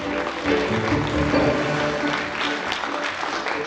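An audience at a regional charity awards ceremony applauding the finalists in the regional charity category, with steady, sustained clapping from a full hall and no break for nearly four seconds.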